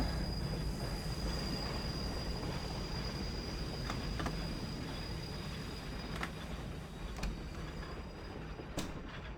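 A train rolls steadily along the rails in The Last Express video game, with a continuous rumbling wheel noise and a few sharp metallic clicks and squeaks from the carriage, heard from inside the train.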